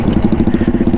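Royal Enfield motorcycle engine with the silencer removed and a direct open exhaust thumps loudly and close up in a rapid, regular pulsing beat, with no one speaking.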